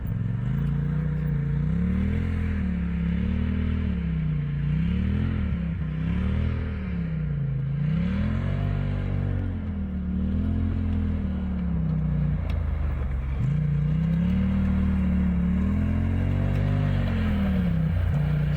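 An autonomous off-road car drives around a course, its motor droning and rising and falling in pitch in repeated waves as it speeds up and slows, loud and continuous with clattery rumble beneath, briefly dipping near the middle.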